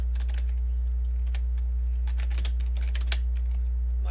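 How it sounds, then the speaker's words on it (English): Fingers tapping on a computer keyboard in quick, irregular bursts of clicks, close by over a constant low electrical hum. "You mean just type it in?"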